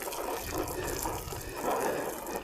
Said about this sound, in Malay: Lepas tu kita basuh dekat jati ni ada air.